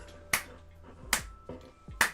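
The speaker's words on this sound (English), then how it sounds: "Okay, I'm gonna clap now." Three crisp, close hand claps spaced roughly a second apart, each a sharp snap-like crack standing alone against a quiet room.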